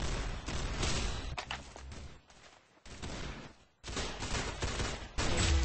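Roblox Arsenal shooter gunfire, fast automatic bursts in two loud stretches split by a brief quieter gap, close and continuous.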